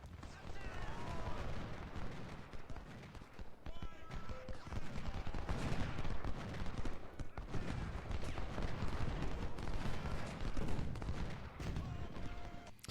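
A Civil War battle at Antietam in Ultimate General: Civil War, with a dense, continuous mix of musket volleys, rattling gunfire and heavier artillery blasts that holds up throughout.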